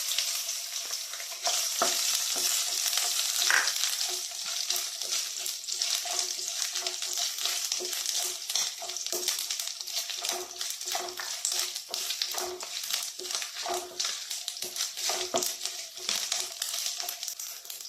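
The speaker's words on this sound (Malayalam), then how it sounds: "നെയ്യ് ചൂടായി വരുമ്പോൾ അതിലേക്ക് കുറച്ച് തേങ്ങാക്കൊത്ത് ചെറുതായിട്ട് അരിഞ്ഞെടുത്താണ് നെയ്യിലിട്ട് നമുക്കൊന്ന് മൂപ്പിച്ചെടുക്കാം." Small chopped coconut pieces crackle steadily in hot ghee for a carrot payasam, a bright, busy sizzle close up that runs throughout with light stirring taps and no talk.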